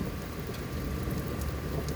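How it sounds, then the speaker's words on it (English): Steady rain falls during a thunderstorm as a soft, continuous hiss with a low rumbling undertone and no voices. "I'm experiencing thunderstorms too"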